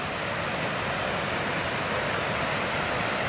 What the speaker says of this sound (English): Almost at the river now